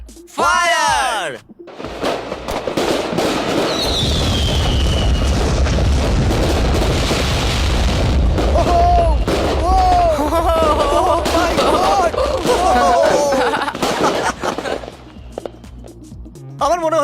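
Large fireworks display firing off in sustained loud bursts of booms and crackles after a countdown, with whistling rockets and dense overlapping explosions continuing for over ten seconds, voices shouting under the barrage.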